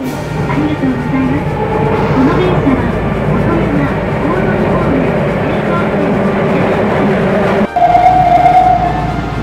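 A departing Nagoya municipal subway train rumbles steadily, with station noise and a brief tonal chime, then a sudden thump as the rumble continues.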